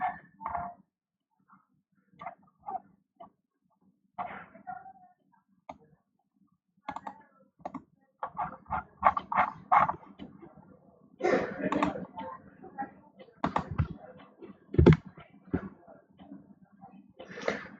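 Scattered clicks and taps on a computer keyboard as a searchsploit command is typed, in short bursts separated by pauses, close and fairly quiet, with a voice speaking at times.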